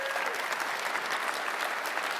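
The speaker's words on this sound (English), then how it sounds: "Let's give him a round of applause." A convention audience applauds steadily throughout, a dense, sustained wash of many hands clapping with no speech over it.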